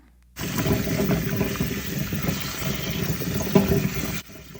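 Tap water runs steadily over avocado seeds being washed by hand, a close splashing gush that starts abruptly, carries a few clunks and stops just as suddenly.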